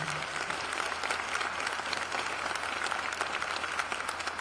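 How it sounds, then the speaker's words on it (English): A civic State of the City crowd in Warner Robins claps for city council members, sustained even applause from a large audience with a faint low hum beneath. "Let's give them a round of applause for their service and dedication to our great city."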